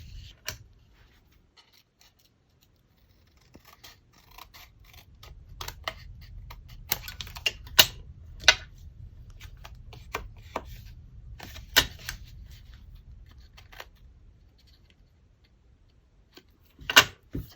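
Paper scraps are cut by hand with scissors in a series of sharp, sparse snips and clicks over a faint background rustle, with no voices.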